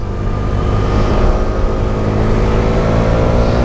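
A KTM Duke 390 motorcycle accelerates, its engine a loud, steady, close droning roar that holds through the whole moment without a break.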